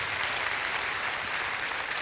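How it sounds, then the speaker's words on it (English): An audience at a political campaign speech in Oklahoma applauds. Dense, even clapping from many hands fills the whole stretch at a steady loudness, with no voices standing out. "Now that's worthy of an applause."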